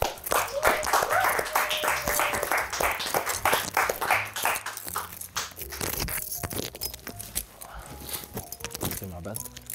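A live studio audience applauds Roy Woods with a dense run of claps for about five seconds, close and fairly loud. The clapping then thins out while people start talking.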